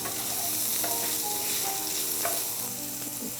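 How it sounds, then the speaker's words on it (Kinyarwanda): Onions fry in a pan, seasoned with a little turmeric powder, while a utensil stirs through them. A continuous sizzle runs under several stirring scrapes and clinks, with no voices present. "Tuvuta duke kugira ngo ibitunguru byanjye bidashirira."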